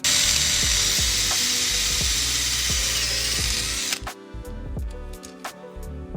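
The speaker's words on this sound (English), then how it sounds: "is to drill this small hole to the size of this hole right here" A power drill whines loudly and steadily as it enlarges a small hole for a carburetor bolt on a 1973 Volkswagen Super Beetle, then cuts off into quieter clicks and handling noises.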